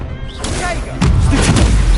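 A Confringo fire spell in Hogwarts Legacy bursts with a loud, close boom, and crackling, thudding impacts follow over the busy sound of a game duel.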